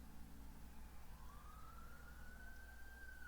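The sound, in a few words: distant sirens during Omori video game credits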